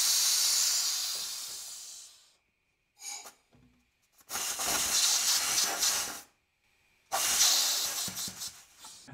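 A pneumatic module vents air in sharp, loud hissing bursts, a long blast, a short puff, then two more sustained hisses split by dead silence.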